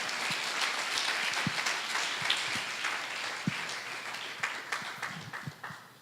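A church congregation claps steadily in applause, a dense patter of many hands that thins toward the end, leaving a few scattered claps.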